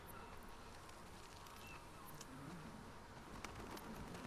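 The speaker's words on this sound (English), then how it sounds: "A seagull poking at your coconut." Faint seagull calls in The Last of Us Part 2 drift over a quiet, airy outdoor ambience, with a few brief distant cries and no voices.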